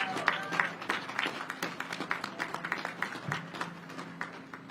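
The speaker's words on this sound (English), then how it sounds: "So let's give a big round of applause to those Navy families again." An audience at a submarine commissioning ceremony for the USS Massachusetts applauds, a dense, steady patter of many hands clapping at moderate distance that holds for several seconds and eases off slightly at the end.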